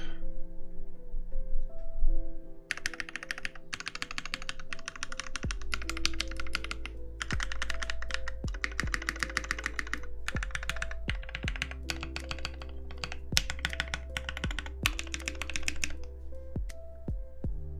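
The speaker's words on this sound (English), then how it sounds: "non-scuffed typing sounds test here on this one" A TGR 910SE mechanical keyboard fitted with Alpaca switches is typed on in quick bursts, close and crisp, its keystrokes clacking in irregular runs with short pauses between them, with no talking.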